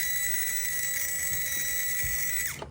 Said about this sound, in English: That's the sound of a loose gear mesh to me.